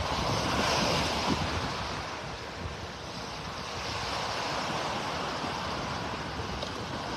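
Ocean surf rolling onto a beach in North Naples, Florida, a steady broadband wash of breaking waves with some wind noise on the microphone, continuous and fairly close, with no talking.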